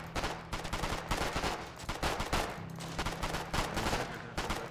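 Sustained gunfire in the war game Foxhole, with dense, rapid bursts of shots crackling continuously over a low steady hum, loud and close throughout.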